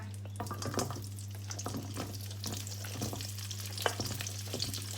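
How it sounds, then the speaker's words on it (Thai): Onion stir-frying in a pan for Thai beef with oyster sauce, a soft continuous sizzle with scattered scraping stirs and clinks over a low steady hum, no talking. "แล้วจอยก็จะผัดผักจ้ะทีนี้ หัวหอมลงไปจ้ะ"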